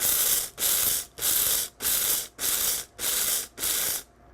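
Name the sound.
blender pulsing rice into grits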